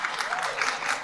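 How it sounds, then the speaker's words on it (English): Audience applause from a crowd at a talk on American government and limited government, a steady patter of clapping throughout, moderately distant. "Oh, I'm getting applause."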